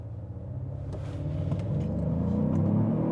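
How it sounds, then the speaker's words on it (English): A 2025 Genesis GV70 launches hard from a standstill using launch control, its engine rumbling deep and building steadily into a rising, strained rev as the car accelerates, close and loud with no talking. "that was a brake boost and launch."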